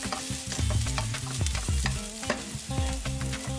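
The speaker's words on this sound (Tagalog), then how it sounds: "Tapos magigisa lang tayo. Gisa tayo ng red onion." Red onion sautéing in leftover oil in a home kitchen pan, a steady sizzle with repeated scraping stirs throughout, loud and close with no talk.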